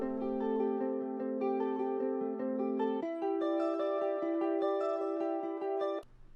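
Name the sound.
guitars with ping pong triplet delay effect in emo rap mix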